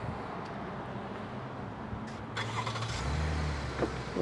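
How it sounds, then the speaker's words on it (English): A 2023 Chevrolet Traverse Premier FWD engine starts by remote start, a low rumble rising and settling into a steady idle near the end, with no talking. "remote start."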